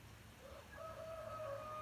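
A rooster crows once, faint and distant, a short rising call over quiet outdoor background in rural Portugal.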